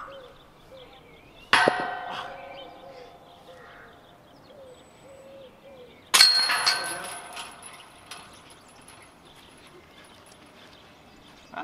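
Two sharp metallic clangs of a disc golf disc striking the chain basket cage on an outdoor course, the second louder with a ringing rattle, separated by quiet ambient outdoor background with birds.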